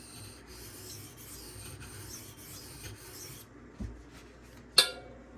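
Benchmade Anthem knife blade stroked on a sharpening stone, a steady soft rasping rub for a few seconds, then quieter with a couple of sharp clicks near the end.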